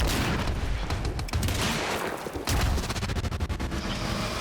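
Gunfire is aimed at the player in Quantum Break, a loud near continuous barrage of rapid shots and impacts with a few heavier cracks, dense and close throughout.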